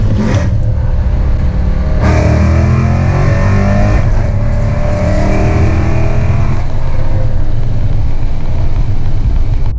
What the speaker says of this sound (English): Show you this downshift.